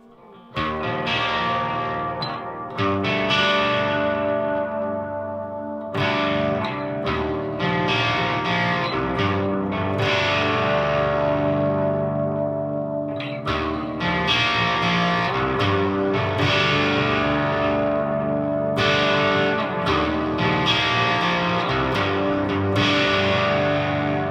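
An electric guitar through a Park's Custom Pedals Ninurta overdrive/distortion pedal, heavily distorted like a hot modded JCM 800, plays thick, crunchy chords and riffs continuously, loud and saturated, with no talking.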